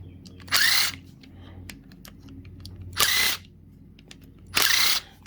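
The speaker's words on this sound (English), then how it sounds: "Hence the power tools" A power drill runs in three short, loud bursts of about half a second each, separated by quiet pauses with faint clicks and handling noise, during work on Warn Industries winch contactors.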